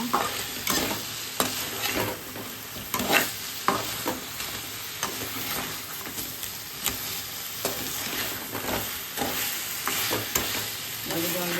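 Crab pepper dry stir-fried in a pan over low flame, a steady sizzle under repeated scraping and stirring strokes of a spatula, close and continuous with irregular louder clatters.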